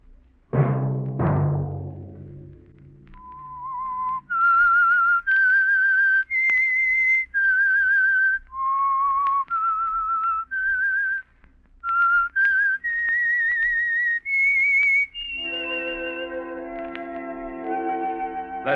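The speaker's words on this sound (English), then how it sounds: "Let that whistle be your signal" Whistled theme tune for The Whistler, a radio mystery program: a lone whistler carries a slow, eerie melody of sustained notes with slight echo, opening after a couple of sharp orchestral hits and ending as a low orchestral chord swells in.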